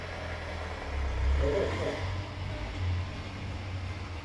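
A neighbour's van pulls up at the house next door at night, its engine a low rumble that swells and fades at a moderate distance, with a person talking quietly nearby.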